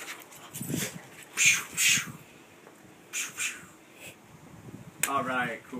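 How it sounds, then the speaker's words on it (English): A puppy whimpers and snorts in short bursts close by, a few high whines and sniffs scattered through a quiet room. "And that's our puppy Cooper"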